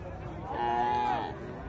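A single drawn-out cow moo rises and fades at a busy cattle market in Daraw selling dairy cows, heard over a steady crowd murmur and voices.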